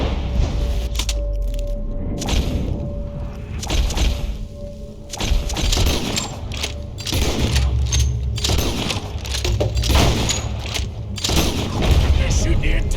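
Repeated gunfire in a Red Dead Redemption 2 town shootout, a dense run of thuds, cracks and booms through the whole stretch, with shouting voices mixed in.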